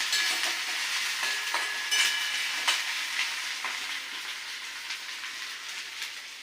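Ginger, garlic and chillies fry in a pan for egg chops, a steady bright sizzle with a few scraping stirs, close and moderately loud, slowly easing off toward the end.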